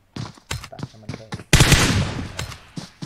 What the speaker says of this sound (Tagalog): Testing lang siguro ng baril.